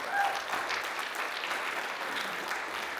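Applause from the audience at a voice-actor convention panel in Norman, Oklahoma, a moderately distant, even patter of many hands clapping throughout, with no talk over it.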